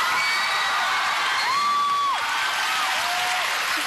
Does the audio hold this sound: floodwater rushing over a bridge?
no